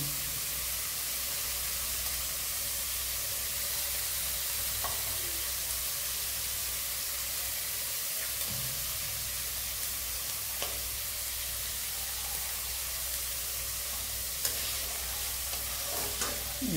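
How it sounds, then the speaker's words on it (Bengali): Curry leaves and thin-cut carrot strips fry in a pan with puffed rice and vegetables, giving a steady loud sizzle throughout with a few faint stirring scrapes. "এর মধ্যে গাজরটাও দেবো, গাজরটাও একটু ভাজতে হবে।"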